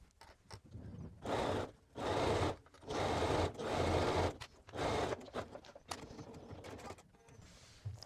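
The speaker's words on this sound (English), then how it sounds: "back stitching at the beginning and ending of that seam" A sewing machine back stitches a sleeve seam on a top in five short bursts. Each whirring run lasts about half a second to a second, with brief pauses between, close and fairly loud, then quieter handling sounds.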